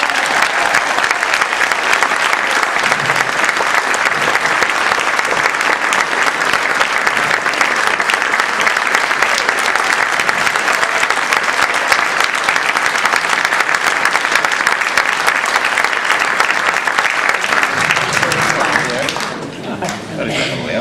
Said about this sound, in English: please, ladies and gentlemen, will you please give a big round of applause